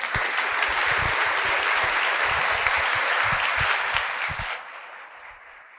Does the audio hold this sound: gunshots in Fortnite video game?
no